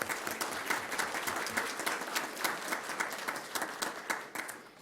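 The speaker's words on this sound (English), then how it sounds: "give him a big round of applause" Audience at a school governing board meeting applauds a student, a dense, even patter of many hands clapping, moderately distant and fairly quiet, tapering slightly at the end.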